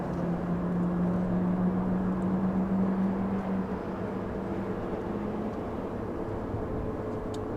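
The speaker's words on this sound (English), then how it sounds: "Oh, there goes the engines" Jet engines power up at Los Angeles International Airport as a steady distant roar with a low droning hum that fades slightly partway through.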